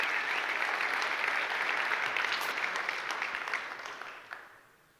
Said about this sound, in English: Should we give a round of applause as well for the staff